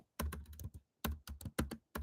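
Keystrokes on a computer keyboard in bursts of quick taps, with short pauses between groups, close and fairly quiet, no talking.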